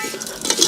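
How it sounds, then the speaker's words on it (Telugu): Semiya vermicelli being fried in ghee in a pan and stirred with a utensil, soft scraping and light clinks over a faint sizzle, close and brief, with no talk. "బాగా దోరగా వేయించుకుంటున్నాము"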